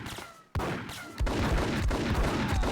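Gunfire in the video game Max Payne: a sudden burst of sharp, rapid shots followed by a second volley of loud repeated cracks, dense and close with no talking.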